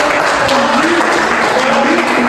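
A class of students applauds in a classroom during a lesson on bullying, a loud, dense, continuous patter of many hands held at an even level for the whole stretch.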